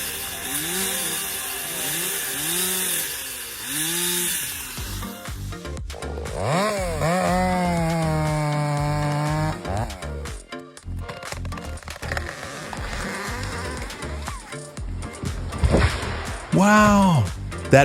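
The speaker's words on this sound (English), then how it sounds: "Practicing cuts on small trees, that's how you sharpen your skills." A chainsaw revs and bites into small trees, its engine whine climbing and dropping through repeated cuts, with idle stretches between bursts and voices mixed in.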